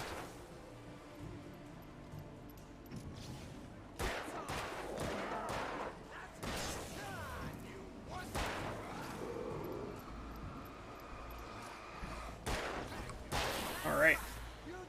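Gunshots in the video game Alan Wake, a series of sharp cracks and bursts scattered irregularly over about fifteen seconds, fairly loud above game ambience and music.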